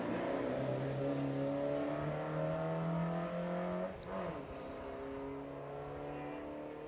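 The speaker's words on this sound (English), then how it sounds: "Next car to leave the line, Chris Woodhouse in the Mark II Escort 1600, and a classic rally car." A classic Mark II Escort 1600 rally car leaves the start line at a historic sprint meeting in Australia, its engine holding a steady, fairly loud drone that eases off after a few seconds, with no voices.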